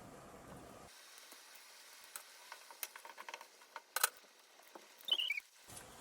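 A tortilla sizzling and crackling in hot oil in a pan for buñuelos, with soft popping ticks scattered over several seconds and a brief louder crackle near the end.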